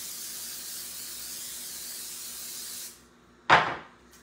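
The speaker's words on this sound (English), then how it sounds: "you wanna make sure that you spray the pan." Cooking spray hisses steadily onto a baking pan for about three seconds, fairly close, then stops, followed by a brief sharp clunk as the can or pan is set down.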